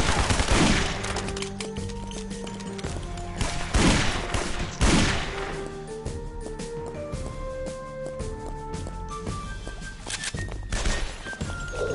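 Video game gunfire with repeated shot bursts and rattling volleys, loud and close, over a steady bed of game music with sustained tones.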